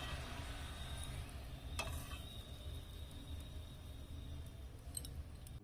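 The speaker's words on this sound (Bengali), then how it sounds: "একটু ওপর থেকে লুচি দিয়ে একটু নেড়ে চেড়ে দিলে কিন্তু লুচিগুলো কিন্তু খুব সুন্দর ফুলে বালুশের মতন হয়ে যাবে।" Carrot luchi frying in hot oil while being stirred, a steady low sizzle throughout with a few light metallic clinks of the utensil near the middle and end.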